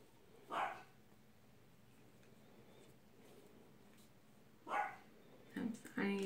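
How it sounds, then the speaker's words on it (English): A dog barks in the background in a home, with a single bark near the start and then a short cluster of barks toward the end, moderately distant over a quiet room. "That's my dog barking in the background."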